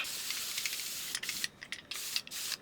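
Hairspray misted onto curled hair, a close, soft hiss that breaks into several short, quick spray bursts near the end.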